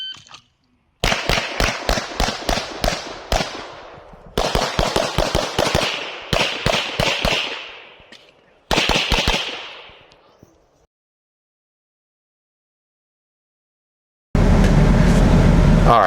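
Pistol gunfire on a practice range during shooting stages: fast strings of sharp cracks in several bursts separated by pauses, loud and close, with a stretch of silence and a dense noisy burst at the end.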